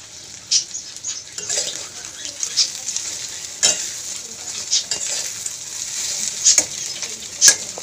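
Eggs fry in a pan with a steady close sizzle throughout, broken by several sharp scraping clicks from a spatula stirring and turning them, no voices heard.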